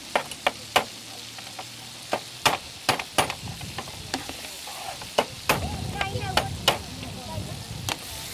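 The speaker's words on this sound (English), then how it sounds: "Just literally crack them and pop them in." Raw crab claws cracked and dropped into a hot, sizzling pan at an outdoor cooking demonstration on a quay: a steady frying hiss under a dozen or so sharp knocks and cracks in an irregular rhythm, close, with no voices.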